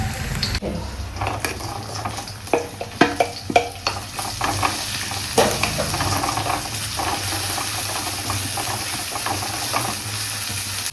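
Ingredients hit an overheated pan for dal and sizzle steadily, with intermittent clatter of stirring and a few sharp pops over a constant hissing fry; no voices.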